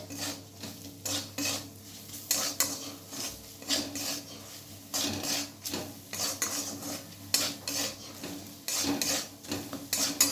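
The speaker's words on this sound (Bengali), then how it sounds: "এরপর আমি মশলাটা ভালোভাবে ফ্রাই করে নিচ্ছি।" Spice masala for a cabbage curry is fried in a pan over low heat, with a faint sizzle under repeated close scraping and stirring of a spoon against the metal, irregular and steady throughout.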